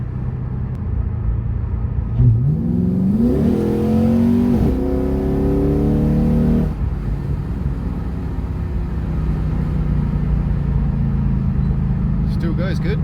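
A 2005 Ford Falcon BA XR8 V8 rumbles on a test drive, with the engine climbing through a rising rev before easing off into a steady cruising drone, while someone talks over parts of it.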